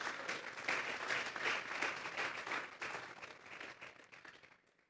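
A church congregation gives a strong round of applause to the Lord, dense steady clapping that holds for several seconds and then fades out.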